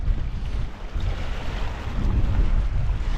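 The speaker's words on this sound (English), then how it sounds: "enjoy that amazing sound of the water coming in" Sea waves roll onto a Scottish beach during Storm Bert as a loud, continuous wash of surf mixed with gusting wind buffeting the microphone.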